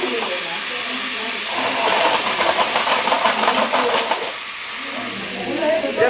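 Food frying in hot oil in a pan, a loud crackling, spattering hiss that swells in the middle and then eases, with a person talking over it.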